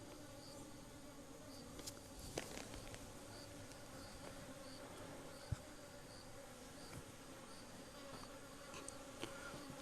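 Bees and other insects buzz steadily around an old stone water vat in the courtyard of a remote mountain farmhouse in Sichuan, a faint continuous drone with a few brief closer passes and no talking.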